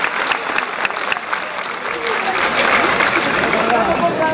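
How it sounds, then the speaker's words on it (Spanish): Applause breaks out at an asado barbecue championship, a dense, steady crowd clapping that swells slightly toward the end, with voices mixed in underneath. "Un aplauso para él"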